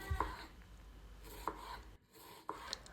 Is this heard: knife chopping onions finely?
yes